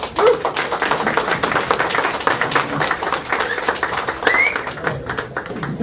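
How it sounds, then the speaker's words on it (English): Audience applause at a speaking event, a dense rapid clapping that runs steadily for several seconds with a few scattered voices mixed in. "Give a round of applause again for wonderful"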